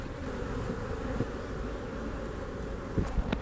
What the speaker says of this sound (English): A lot of bees up there